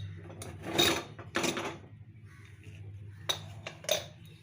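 A pressure cooker holding pongal is opened, with a few sharp metallic clinks and knocks of lid and utensils against the pot, separated by quiet pauses, close and fairly clear.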